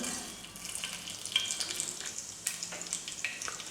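Steady sizzling and crackling of fennel seeds and peppercorns frying in hot oil, close and continuous, with small pops throughout.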